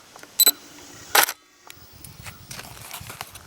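Shutter of a DSLR fitted with a Nikkor 55-200mm lens, shooting at 1/320 second with autofocus. Two short, sharp mechanical clicks sound close by, with quiet handling noise afterwards.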